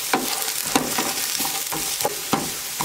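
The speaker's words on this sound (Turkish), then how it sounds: "Alttan kızarmaya başlayınca tekrar karıştıracağım." Food fries in a pan with a continuous crackling sizzle while a utensil stirs it, making a series of regular scraping strokes roughly every half second, close and clear with no talk.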